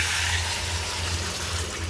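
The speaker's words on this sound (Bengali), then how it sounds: "ঝোল রাখার জন্য জল দিয়ে দেবো" A steady, loud rush of water pouring continuously into a cooking pot of half-boiled potatoes, with a low hum underneath.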